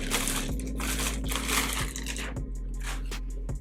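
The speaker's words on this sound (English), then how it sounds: "Let's get unwrapping" Packaging around a pair of Sheertex sheer tights is being torn open: continuous close crinkling and crushing of wrapper material with a few louder rustling bursts, no talk.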